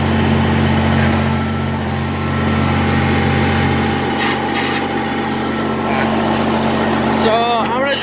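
A 1971 Oliver 1855 tractor engine runs steadily nearby, with a sustained turbo whine over its droning harmonics, while someone talks over it.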